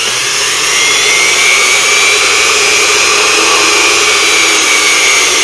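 A Unimat SL1000 mini lathe cuts 12L14 steel at around 1600 RPM with a steady, loud, continuous high whine and hiss that holds unbroken throughout.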